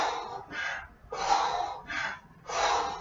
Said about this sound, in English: that's breathing in with one step and out with the other.